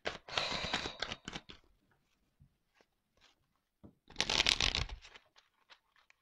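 Playing cards shuffled and handled in two bursts, a long riffle at the start and another a few seconds later, close and fairly loud, with quiet flicks and draws between them.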